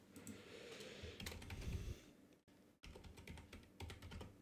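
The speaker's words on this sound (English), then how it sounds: "Or I'll type it here." Fast, close clicking of a computer keyboard runs throughout as someone types steadily, with only a brief pause in the middle and no talking.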